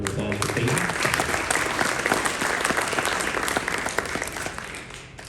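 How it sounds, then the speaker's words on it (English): Applause at a spring concert awards night honoring a student, a loud sustained crowd clapping with a few voices mixed in, tapering off toward the end. "Round of applause for Peyton."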